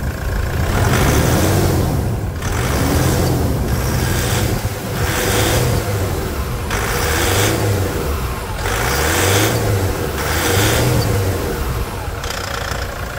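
A Suzuki Samurai engine revs repeatedly in a loud, close series of rising and falling throttle blips over a steady idle, with no talking.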